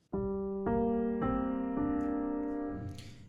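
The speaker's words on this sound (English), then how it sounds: "the first one is this Deluxe Grand Jazz piano" Deluxe Grand Jazz piano patch from the Radical Piano sampler plays four close, bright chords in a steady sequence, each struck cleanly and left ringing, with a soft tail at the end.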